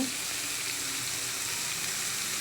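Bitter gourd pieces fry with salt in a pan, giving a steady, close hissing sizzle that runs unbroken with no talking.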